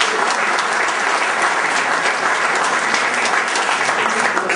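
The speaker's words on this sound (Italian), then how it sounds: "se lo vogliamo anzitutto salutare con un bel applauso" A seminar audience gives a loud, dense, sustained round of applause to welcome a guest, an even wash of many hands clapping close by with no break.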